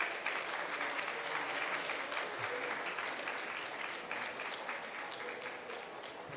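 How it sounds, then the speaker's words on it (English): Applause from an audience for speakers leaving a stage at a formal event, a continuous, moderately distant patter of many hands clapping. "Another round of applause for our speakers on stage."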